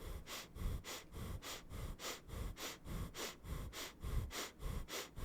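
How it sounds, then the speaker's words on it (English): Slow, steady breathing during a Kundalini meditation practice, close and quiet: about ten even, soft breath cycles, each a gentle airy rush in and out, with no voices. "You're listening to your steady, consistent breath"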